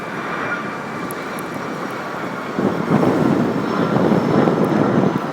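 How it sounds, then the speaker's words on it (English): Jet aircraft roar overhead at Rockaway Beach, New York, during Hurricane Sandy, a broad rushing drone that swells louder midway, with some wind buffeting on the microphone. "You can actually hear the planes in the background."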